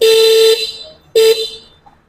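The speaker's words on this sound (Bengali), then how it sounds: "তো এখানে রয়েছে হর্ন সুইচ" Horn of a Moyna electric three-wheeler, two loud electronic beeps, the first about half a second long and the second shorter, sounded close by with brief silence between.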